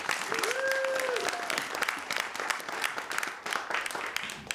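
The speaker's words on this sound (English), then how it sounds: "Let's give a warm round of applause for Oz Malloy" Audience applause fills the room as a storyteller is welcomed on stage at a storytelling slam, a steady dense wash of clapping with some cheering and talk mixed in, holding loud throughout.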